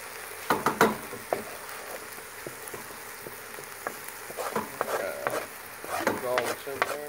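Garlic frying in a pot as the base of a chicken kale soup, a soft steady sizzle with scattered crackles and stirring clatter, fairly faint and quiet throughout.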